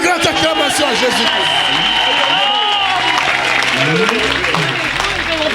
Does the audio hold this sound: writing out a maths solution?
no